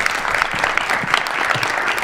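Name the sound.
audience applause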